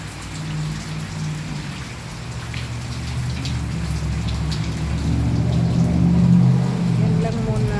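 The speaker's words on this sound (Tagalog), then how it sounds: "Ayan, patapos na yung ulan, mamaya naman siguro ambon-ambon na" Rain falls steadily outdoors as a heavy downpour begins to ease, forming a dense, even hiss with a low rumble underneath while someone talks over it.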